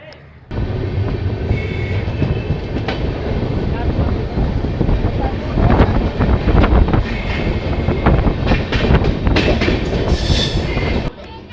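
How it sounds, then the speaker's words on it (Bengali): An LHB-coached Tebhaga Express rolls into Murarai station, caught up close from aboard the train. A loud, steady rumble of wheels and coaches carries throughout, with rattles, wind buffeting and brief high squeals toward the end. "সকাল নটা বেজে পঞ্চাশ মিনিটে ট্রেন মুরারই স্টেশন এন্টার করছে"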